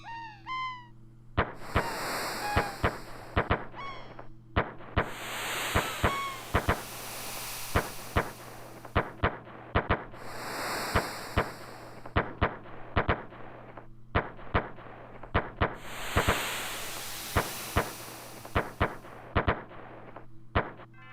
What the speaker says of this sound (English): what's really cool is that was fireworks, if you didn't catch what the popping sound was